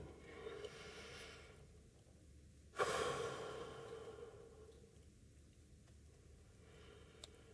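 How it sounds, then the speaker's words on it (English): Slow, soft breathing cycles close to the microphone, with a sharper audible inhale or sigh midway and quieter breaths fading after, during a sigil-opening meditation. "The cycles of breathing,"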